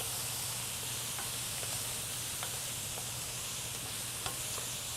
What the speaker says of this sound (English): I'm going to add some mushrooms to it. I'm going to saute these up a little bit.